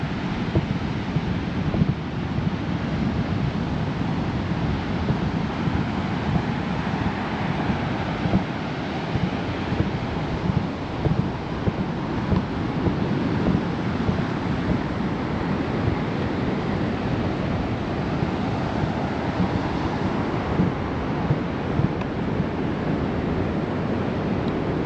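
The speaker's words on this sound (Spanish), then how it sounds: "Quiero que sientan el mar." Ocean surf and strong wind on a sandy beach at Punta del Diablo, Uruguay, a dense continuous roar of waves with heavy wind buffeting the microphone and no voices.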